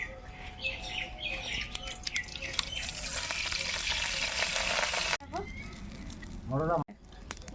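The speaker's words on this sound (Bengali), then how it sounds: "মরলো মাছগুলা ভেজে নেবো" Mourola fish sizzle and spit in hot mustard oil in a pan, a loud, dense frying hiss that runs steadily, then cuts off sharply and returns with brief squeaky scraping.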